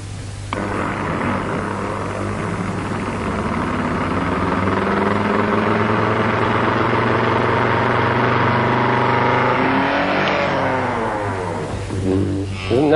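A large demonstration gyroscope spinning up with a steady rising mechanical whir and hum that swells and holds for several seconds before starting to shift and fade.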